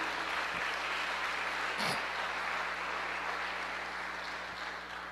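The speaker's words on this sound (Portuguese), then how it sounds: "Você pode aplaudir a Jesus?" A church congregation applauds during a sermon, a steady, dense wash of clapping from a large crowd that stays even and slowly fades toward the end.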